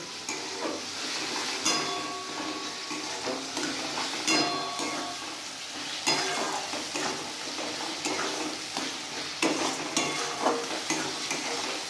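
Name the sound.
spices being fried and stirred in oil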